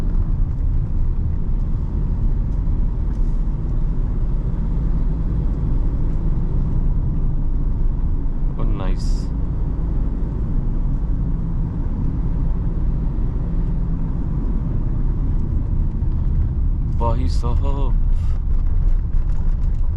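A 2025 Tata Nexon driving on a road, heard from inside the cabin as a constant low rumble of engine and road noise, with people talking briefly over it.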